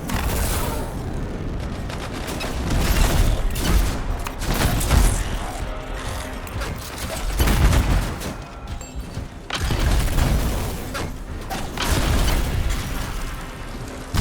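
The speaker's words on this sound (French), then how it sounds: "J'ignore complètement les balles." Sustained gunfire and explosive bursts from combat in the game Anthem, loud and layered with swelling thumps and rattling shots throughout.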